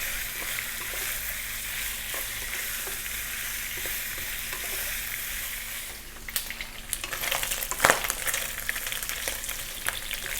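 Pork belly renders in a pan over medium heat with a steady, busy sizzle. Stirring and scraping noises break in near the end, and no one speaks.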